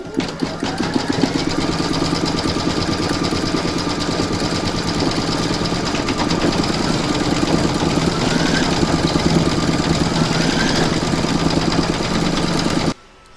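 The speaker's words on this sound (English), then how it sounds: "you're now going to pop this back into your machine and stitch round number 12, and that's going to zigzag the border" An embroidery machine zigzag-stitching the border of an in-the-hoop Christmas coaster, a loud, fast, even mechanical chatter of needle strokes running continuously and close, then stopping abruptly at the end.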